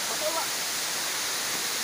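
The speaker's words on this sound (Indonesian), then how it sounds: "Tempat yang indah ini, air terjun Lacolla." The Lacolla waterfall roars as a dense, continuous rush of falling water, loud and close, with a faint voice briefly audible beneath it early on.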